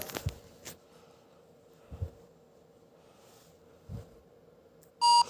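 A smartphone gives a single short, bright electronic beep on scanning a QR code, clear and near, after several quiet seconds with a few faint taps and handling knocks.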